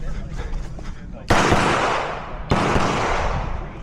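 Two sharp, loud gunshots at a USPSA competitive shooting match, about a second apart, each a hard crack that decays into a long outdoor echo, with faint background murmur before the first shot.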